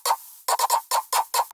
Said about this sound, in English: First, we have this kind of tonal pop,